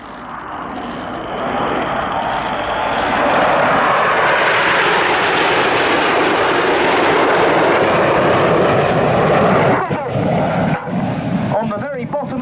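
Nine Red Arrows jets roar overhead in tight formation at an air display, a loud swelling rush that builds, holds, then breaks up near the end as the roar fades, with a commentator talking over it.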